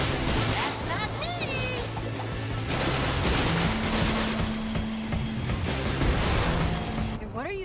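Rapid gunfire from the video game Sunset Overdrive rattles in dense, overlapping bursts with crashes and impacts, loud throughout and mixed with game music and character voices.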